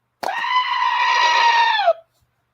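A goat scream sound effect from a stress relief button: a single loud, sustained nasal bleat lasting under two seconds, cutting off abruptly into silence.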